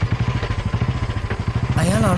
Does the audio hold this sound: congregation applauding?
no